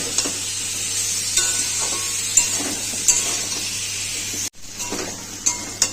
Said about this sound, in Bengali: হলুদ পরে দেবো, দিয়ে ভেজে নেবো এটাকে